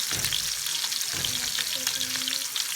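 Chicken sajji fries steadily in oil on low heat, a continuous close crackling sizzle with occasional stirring scrapes throughout.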